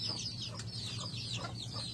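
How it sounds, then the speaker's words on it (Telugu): Farm chickens and chicks cluck and peep softly and continuously, with a steady low hum underneath. "మా కోడి పిల్లలకు చూడండి"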